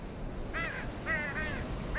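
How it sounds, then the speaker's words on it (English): Birds in Hitman 2 give several nasal, quacking squawks in quick succession over a low ambient rumble, moderately near and fairly faint, with no talking. "Birds!"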